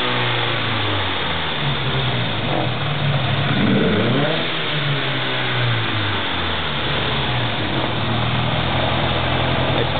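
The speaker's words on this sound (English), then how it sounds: "Go ahead and rev it up." A Nissan 350Z with a swapped SR20DET engine and drive-by-wire throttle runs loud and close, its steady idle rising into a brief rev and settling back, with no talking over it.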